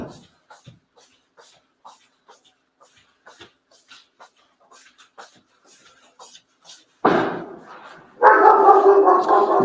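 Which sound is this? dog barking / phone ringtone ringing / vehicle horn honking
dog barking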